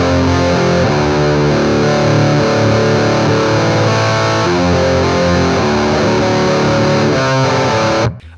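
An electric guitar played straight into a Crate Blue Voodoo 120 amp, with no effects pedals, rings out heavily distorted. Sustained chords follow one another continuously, loud and close, before cutting off abruptly at the end.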